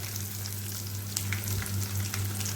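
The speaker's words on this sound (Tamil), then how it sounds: "இந்த தேங்காய் வந்து நல்லா பொன்னிறமாக வர வரைக்கும் இதில் வந்து ஃப்ரை பண்ணிக்கிறேன்." Steady, close crackling and hissing of small coconut pieces frying in hot oil, with soft bursts of spatter over a constant low hum.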